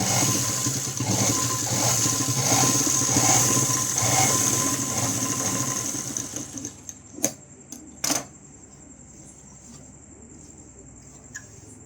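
A sewing machine stitches a long frock, running as a continuous close, rattling whirr for about seven seconds, then stops, leaving a couple of sharp clicks and faint handling sounds.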